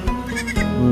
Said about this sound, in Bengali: এই যে ছাগল ছানা